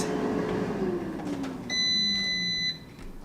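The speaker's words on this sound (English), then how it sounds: "you hear that beep? That means that our chicken is ready to be flipped" An air fryer cooking stuffed chicken emits one sustained electronic beep lasting about a second, clear and fairly loud, following a low falling hum from the appliance.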